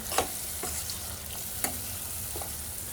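Spices and cooked dal being stirred into sizzling ridge gourd in a pan for a Konkani-style amti, a steady frying hiss broken by a few sharp scrapes of a spoon against the pan.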